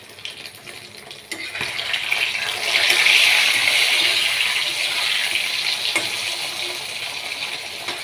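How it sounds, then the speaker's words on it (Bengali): Paneer pieces drop into hot oil in a kadai and set off a sudden, rising sizzle that swells to a loud, bubbling hiss and then settles into a steady fry. "তেল গরম হয়ে গেছে, এবার পনিরগুলো ছাড়বো।"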